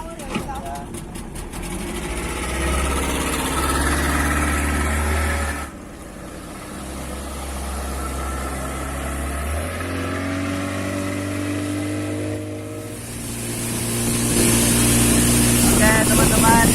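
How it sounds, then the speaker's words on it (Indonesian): A speedboat with a 40 hp outboard engine runs on the water, a loud sustained low motor drone that shifts pitch and rises toward the end, with people talking over it. "inilah kakak saya membawa speedboat. Boatnya mesin 40 ya teman-teman"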